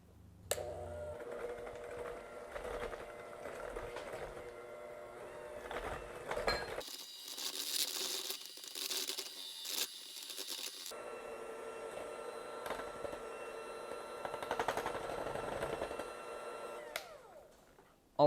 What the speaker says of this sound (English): now we're going to mix again